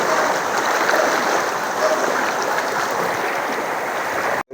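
Floodwater rushes through a canal floodway during a flood, a steady, dense broadband roar of flowing water that runs close and unbroken for the whole stretch, with no voices over it.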